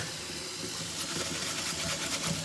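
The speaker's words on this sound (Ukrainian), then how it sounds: "перше миємо, беремо теплої води." Warm tap water runs steadily into a kitchen vessel for rinsing buckwheat, a close, continuous hissing splash with slight fluctuations and no voices.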